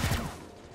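Gunfire from the video game XCOM: Chimera Squad, a single sharp close shot with a quick booming decay lasting under a second.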